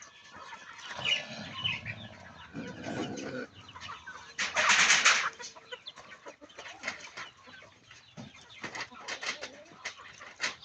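Farmyard chickens on a village smallholding, clucking and murmuring close by, with a burst of wing flapping or scuffling midway and scattered softer calls after, and no voices over them.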